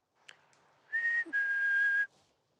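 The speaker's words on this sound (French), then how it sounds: "T'as sifflé?" A person whistles in a quiet wood at night, calling out to see if anyone answers: two sustained, steady whistled notes with a short break between them, clear and close against faint background hush.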